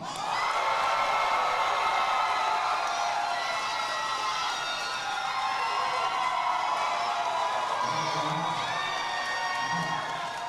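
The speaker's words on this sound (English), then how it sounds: "those of you who think Daniel Cabo's won the fight, round of applause" Arena crowd at an MMA event cheers loudly for fighter Daniel Cabos, a sustained roar of shouts, whoops and applause over about ten seconds, with scattered individual yells rising out of the din.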